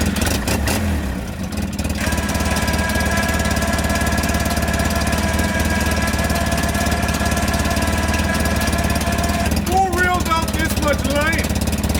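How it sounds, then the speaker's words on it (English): A Champion 3000 lb winch runs loud and close as a steady motor whine with a heavy mechanical drone that holds unbroken for about ten seconds. Near the end a brief squeal rises over it. "See if this winch actually works."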